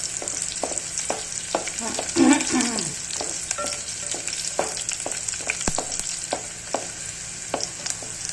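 Onions fry in a pan for a pea and potato curry, giving a steady sizzle with a brief louder burst of stirring and scraping near the middle.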